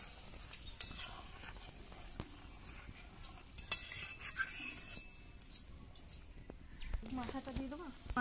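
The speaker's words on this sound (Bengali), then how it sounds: "এই যে ঝোলটা ফুটে গিয়েছে একটু ভালো করে নেড়ে দিই" A spoon stirs boiling curry gravy in a pot, with intermittent scraping and clinks against the metal rim, soft bubbling between the strokes, and a few sharp knocks near the middle.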